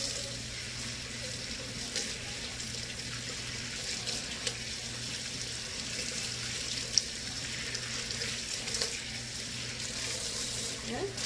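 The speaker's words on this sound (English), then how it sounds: "And I like to clean on cool water." Cool tap water runs steadily into a kitchen sink as freshly peeled boiled eggs are rinsed, a soft continuous splashing hiss at moderate distance with faint clinks now and then.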